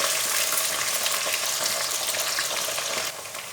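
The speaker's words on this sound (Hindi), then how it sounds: "आलू को भी गोल्डन फ्राई करेंगे।" Potato pieces for aloo baingan frying golden in hot oil make a dense, even crackling hiss close to the pan that eases slightly near the end, with no talking.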